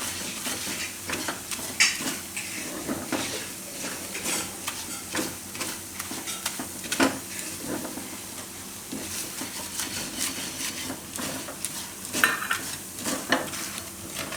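Maida flour being stirred and roasted on low heat in a pan for spaghetti sauce, with a spoon scraping and tapping the pan in a steady rhythm over a faint sizzle, close and continuous throughout.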